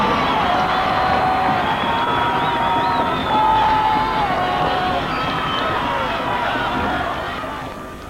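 A nationalistic crowd at a 1998 England fight roars and cheers steadily throughout, dense and loud, with shouting voices rising and falling and fading slightly at the end.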